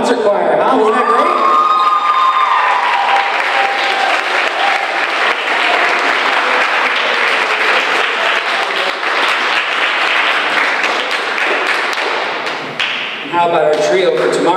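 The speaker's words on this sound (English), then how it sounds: "How about one more round of applause for the concert choir, huh?" At a spring concert, the audience gives the concert choir loud, sustained applause mixed with cheering and shouts from the crowd, with some thumps, continuing strongly for about fourteen seconds before tapering off.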